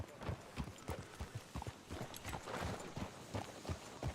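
Horse hooves clip-clopping in Red Dead Redemption 2, a steady close rhythm of hoof strikes on ground continuing throughout with faint background voices.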